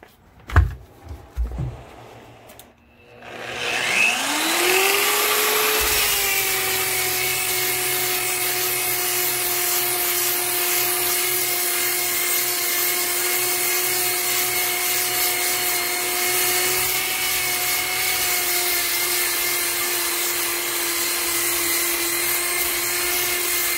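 Warrior rotary sander stripping old finish off a wooden workbench, a steady high motor whine that spins up after a few brief knocks and holds loud and constant to the end, with no talk.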